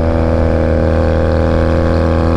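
A Honda Rebel 250 motorcycle engine runs at full throttle while climbing a hill, giving a loud, continuous, steady drone close to the microphone with no talk.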